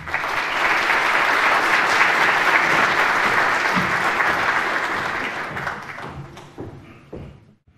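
A conference audience at the inauguration of an international congress at Universidad del Pacífico gives a long, dense round of applause to welcome Dr. Castilla Rubio, loud and sustained for several seconds before thinning into scattered claps and fading out.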